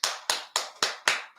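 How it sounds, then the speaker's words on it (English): Five sharp, evenly spaced claps ring out close and loud, each with a quick decay, coming from a single pair of hands rather than a crowd. "Wild applause, Dunya."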